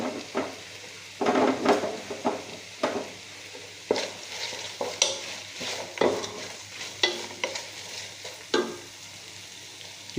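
Finely chopped onion with curry leaves sautés in a pan for a chicken stew. A loud sizzle is broken by repeated scraping and clattering strokes of a spatula against the pan.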